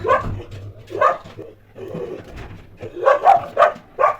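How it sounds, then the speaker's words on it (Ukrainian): A frightened dog barks in short bursts as a car arrives at a house, sharp yelps spaced irregularly and fairly close, growing denser toward the end, with no talking. "Тому він і гавкає, як переляканий."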